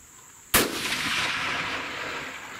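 A single sharp rifle shot cracks out on a long range shooting course, loud and close, followed by a long rolling echo that slowly decays across open ground.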